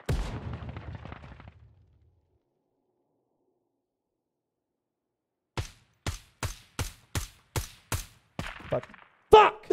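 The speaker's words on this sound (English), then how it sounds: "Bin Laden hitting them shots" Gunfire in the tactical shooter Ground Branch, with a Navy SEAL DEVGRU loadout: brief talk first, then a pause and about seven sharp, evenly spaced shots, closing with a louder, denser burst.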